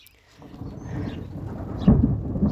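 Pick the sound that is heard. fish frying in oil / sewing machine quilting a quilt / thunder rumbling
thunder rumbling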